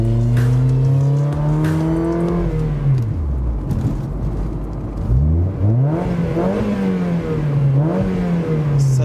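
Mazda MX-5 Miata sports convertible engine accelerating on the road, pitch rising through gears with clear shifts, fairly loud and steady with no talk over it.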